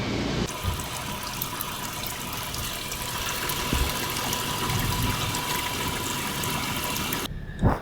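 Water pours and gushes steadily as a truck named Loki drains after sinking in the Osceola National Forest. The rushing, splashing flow is close and continuous, with no talk.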